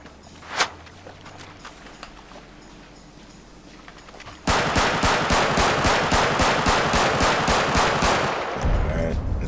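Modded gunfire in GTA 5 with realistic weapon sounds: a single sharp shot early, then a long rapid automatic burst of evenly spaced loud cracks, close and alone.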